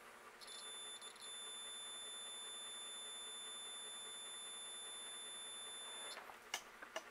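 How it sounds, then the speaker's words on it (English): A multimeter in continuity mode emits a steady, sustained electronic beep for about five and a half seconds while its probes touch a good fuse, then stops with a few faint clicks of the probes. "if the fuse was blown or bad, it wouldn't make a beep like this"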